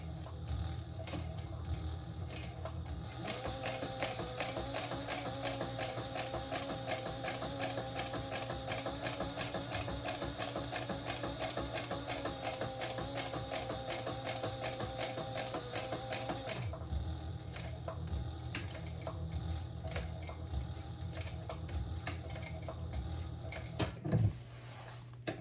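Sewing machine running steadily while back stitching on a flap of a Federica bag, a continuous fast mechanical whir with rapid needle ticks, pausing briefly near the end before a single clunk.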